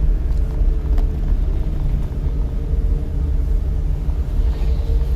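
A car's engine revs steadily during a driving lesson, with a continuous low rumble holding at an even, fairly loud level throughout.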